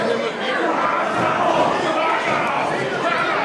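A live wrestling event crowd roars continuously, a dense wash of cheering, shouting and chatter that fills the whole stretch at high volume.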